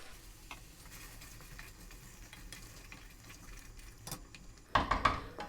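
Chopped vegetables dropped into a hot oiled pot for daal and vegetable bhuna, a steady low sizzle under faint stirring clatter, swelling into a louder burst of frying and scraping near the end.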